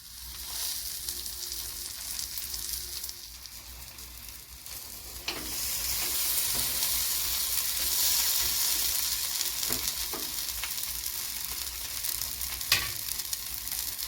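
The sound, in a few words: egg omelette sizzling in a frying pan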